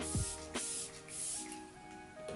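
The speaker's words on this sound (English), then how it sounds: "going back with that same spray we used earlier, this is the Lumine Glow Refresh Spray." Two quick hissing spritzes of Lumine Glow Refresh setting spray, misted over a made-up face, come close together, with quiet room sound between them.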